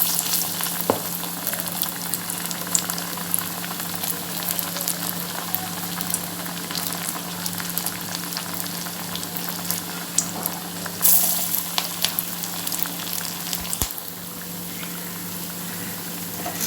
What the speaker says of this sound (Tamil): இங்கே பாருங்கள், எண்ணெய் காய்ச்சிடுச்சுங்க. நம்ம வடையாக தட்டி போட்டுடலாம்.